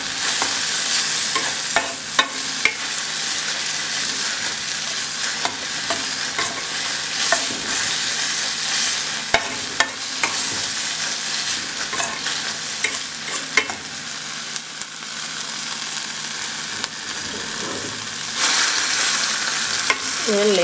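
Sliced onion and tomato sizzle steadily in a hot pan, a continuous close frying hiss with occasional stirring scrapes and no talk.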